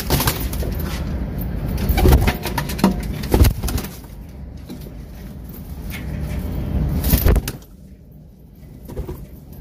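Pigeons being let out of their cage in the morning at a racing pigeon loft, with soft cooing and fluttering mixed with background rumble, a few louder bursts of wingbeats, then quieter near the end.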